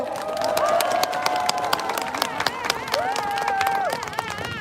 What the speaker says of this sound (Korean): 신주호 친구를 큰 박수로 맞이해 주십시오